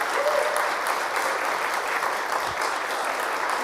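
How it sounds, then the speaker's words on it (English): An audience applauds steadily for a group of youth volunteers at an Appalachia Service Project 2024 report-back event, a dense, even wash of clapping that holds for a few seconds with no talk over it. "Can we clap for all these people?"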